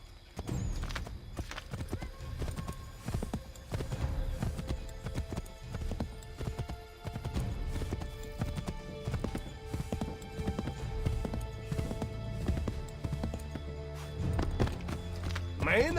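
Horse hooves gallop steadily during riding in Assassin's Creed III, a fast continuous clip-clop with occasional whinnies, close and prominent over ambient game sound.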